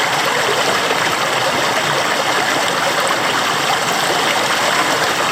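A waterfall in northeast Tasmanian rainforest, a constant broad rushing wash of falling water heard close and fairly loud, unchanging throughout with no voices.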